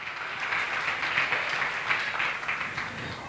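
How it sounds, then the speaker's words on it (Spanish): Steady applause from a church congregation, a continuous wash of clapping at moderate volume with no talking. "Aplausos."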